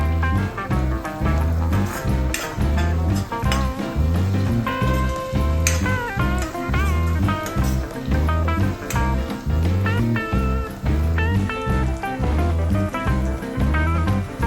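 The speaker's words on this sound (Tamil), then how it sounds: "இது கூடவே கொஞ்சமா கருவேப்பிலை இலைகளையும் சேர்த்து வதக்கி விட்டுக்கலாம்." Dried red chillies and curry leaves sautéing in a pan for Pallipalayam chicken, a continuous crackling sizzle beneath a loud, steady music bed with a repeating beat, no talking.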